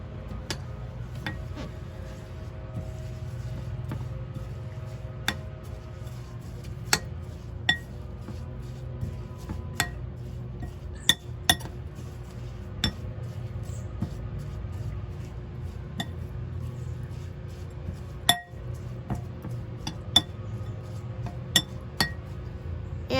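Apple crisp topping with cinnamon being mixed in a bowl, with a steady run of light, close clinks and taps of a utensil against the bowl over a soft background hum, and no talking.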